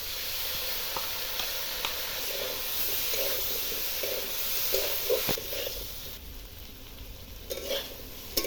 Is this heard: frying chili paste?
yes